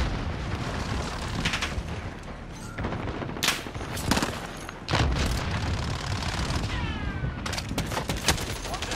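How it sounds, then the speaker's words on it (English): Cruise missile strike in Call of Duty: Modern Warfare, a string of loud, heavy explosions and booming blasts over dense continuous rumble and gunfire-like crackle, several sharp bursts landing close. "Enemy cruise missile."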